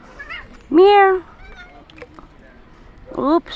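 A cat meows loudly twice, with a long drawn-out cry first and a shorter one near the end, close by over faint background talk.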